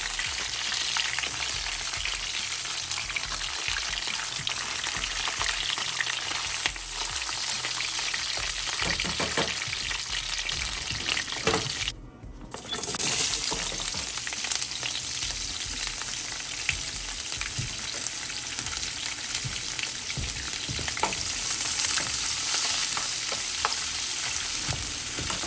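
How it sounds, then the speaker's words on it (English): Italian sausage egg rolls fry covered in a pan on medium heat, a dense steady sizzle and crackle with scattered pops, muffled for a moment midway when the lid shifts, then sizzling on. "We're going to cook these for about 15 to 20 minutes covered on medium heat."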